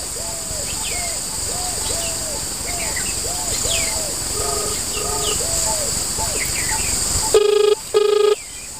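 Two short electronic tone bursts from a phone keypad near the end, after several seconds of steady chirping birds and insects in the background.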